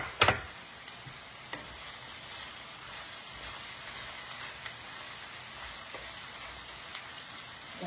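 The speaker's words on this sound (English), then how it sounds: "Going to give those green beans a stir." Green beans sizzle steadily in a pan on a stovetop burner, with a few sharp clinks of stirring near the start and occasional faint scrapes over the continuous frying hiss.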